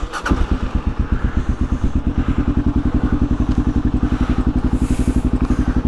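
A motorcycle engine in a garage on a cold winter day, started in neutral without choke, runs at a steady close, loud idle with an even rapid thumping pulse.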